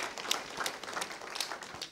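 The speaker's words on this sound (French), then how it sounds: "Je pense qu'on peut applaudir" Moderate audience applause at a university medical faculty ethics event in Paris, scattered hand claps forming an uneven patter with a few sharper individual claps standing out.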